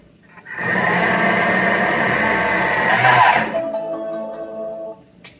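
A Thermomix whirs loudly as it blends a fruity soft serve ice cream mixture, a close, steady motor drone for about three seconds that cuts off and leaves a fading tonal hum.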